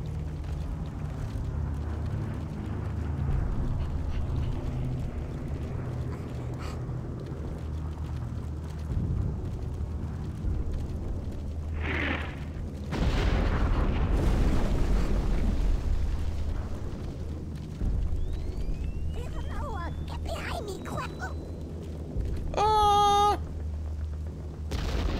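Explosions from the video game Conker's Bad Fur Day, a few bursts and booms over a continuous low game soundtrack, with a louder blast midway and crackling, popping effects near the end.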